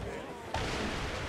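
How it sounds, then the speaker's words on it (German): An explosion in the video game Assassin's Creed IV Black Flag, a sudden loud blast during a sailing-ship sequence that settles into a sustained rumbling roar, with game audio beneath it. "Es explodiert gleich."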